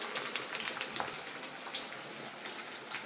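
Pumpkin slices fry in ghee with a dense, even sizzle and fine spattering crackles, close and steady, with no talking.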